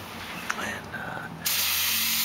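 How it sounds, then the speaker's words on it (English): Aerosol spray can of undercoating sprayed onto the underside of an MG, a steady close hiss that starts after a brief rattle and small clicks, then holds loud and even to the end. "no real method to this. I just kind of spray all of it."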